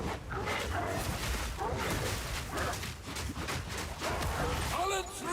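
A dog barks and whimpers with high, wavering yelps and whines, fairly loud and close, mixed with a person talking throughout.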